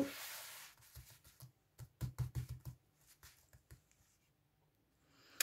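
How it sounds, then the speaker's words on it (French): Playing cards are spread out across a table by hand: a quiet series of soft taps, slides and rustles, bunched in the middle and then trailing off, with no talking. "Alors, je vais étaler les cartes."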